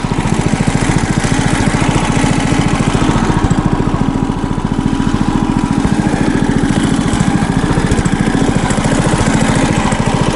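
An Albatros-XLV9 motorized snow tug runs steadily in deep taiga snow, its small engine putting out a loud, continuous rapid chugging drone up close with no talk over it.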